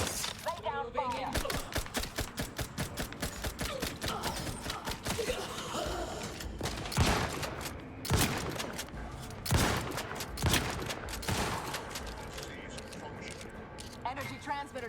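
Gunfire in the video game Outer Worlds: rapid bursts of shots and sharp impacts crack repeatedly over a busy, loud battle soundscape, with mechanical clatter between volleys.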